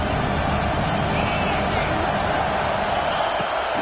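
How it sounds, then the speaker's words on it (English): Stadium crowd in an American football video game, a steady loud roar of noise and babble running throughout without a break. "This crowd knows when to bring it."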